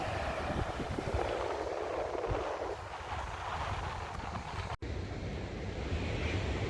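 Small ocean waves break at Ocean Beach near Umina, a steady wash of surf mixed with wind buffeting the microphone, no talk.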